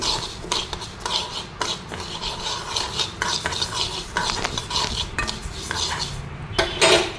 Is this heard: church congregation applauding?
no